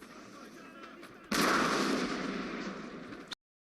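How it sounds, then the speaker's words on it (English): A musket volley rings out in Napoleon: Total War, a sudden loud crackling burst of massed gunfire that trails off over about two seconds before cutting to silence. "So it's time for these guys to shoot."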